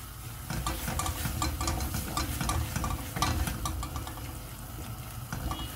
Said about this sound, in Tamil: ரா ஸ்மெல் போகிற வரையும் வதக்கிக்கோங்க